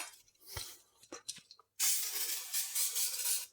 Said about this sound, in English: Now I'm going to spray this down with some brake cleaner.